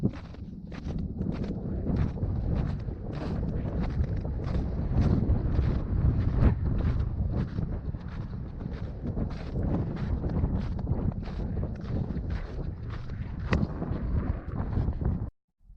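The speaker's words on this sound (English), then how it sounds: "The wind, pretty fucking crazy." Strong, gusty wind roars and buffets the microphone nonstop on Monarch Pass along the Continental Divide Trail, with rhythmic crunching hiking steps underneath, until it cuts off abruptly.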